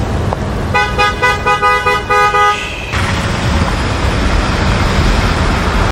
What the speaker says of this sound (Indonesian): membuatnya terus membunyikan klakson